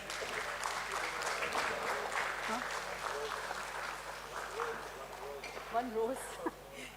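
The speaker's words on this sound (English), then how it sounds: "a big round of applause for them." A room claps for a team at a stock exchange listing ceremony. The clapping is soft and steady, under faint chatter and a low electrical hum.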